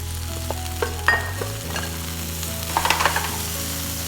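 Broccoli stir-fries in meat-flavored oil in a pan for beef with broccoli, giving a loud continuous sizzle with clinks and scraping stirs over a steady hum, close up and without talk.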